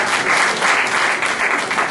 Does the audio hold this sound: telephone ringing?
no